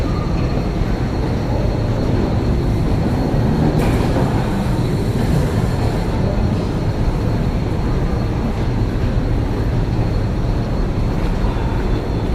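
Constant loud rumbling roar of the Kalayang Skytrain people mover running at Soekarno-Hatta airport, heard from close by with a steady rolling texture throughout and no talking.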